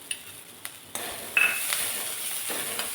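Onion and a halved tomato roast in a pan with little oil, giving a steady close sizzle with a few light clinks of a utensil against the pan, no talking.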